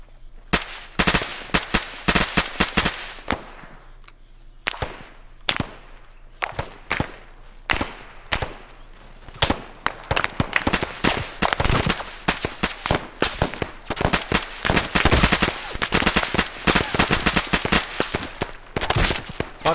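Subsonic rounds fired in the Arma video game, sharp cracking single shots and quick strings of shots in irregular rhythm, starting sparse and growing into dense, loud bursts.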